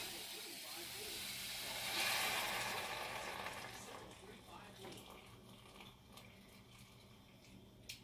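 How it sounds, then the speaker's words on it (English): Water poured into a cooking pot of fish soup with shrimp and garlic, a steady soft hiss of pouring that swells briefly, then tapers to a faint trickle, with quiet kitchen noise around it. "So now what I'm going to do is add some water."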